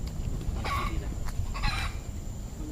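Chickens cluck in a couple of short, fairly close bursts of hen calls over a low background hum, with quiet gaps between the calls.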